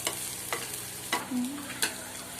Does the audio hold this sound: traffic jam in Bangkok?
no